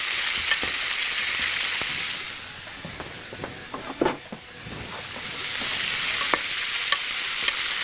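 Meat sears in a hot pan, left unstirred, giving a loud, even, continuous sizzle with a few pops and a brief dip in the middle before the hiss swells again.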